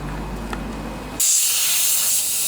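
A low rumbling hum gives way to a sudden loud, steady hiss of aerosol cleaner sprayed around a carburetor, continuing unbroken to the end.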